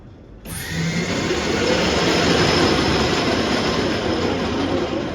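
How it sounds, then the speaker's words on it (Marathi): A transformer coil winding machine at an engineering works starts up after a brief quiet moment, then runs with a loud, continuous whirring hum and hiss as it winds wire. "मी अराउंड राईट साईडला टाकते आणि वाइंडिंग स्टार्ट करते"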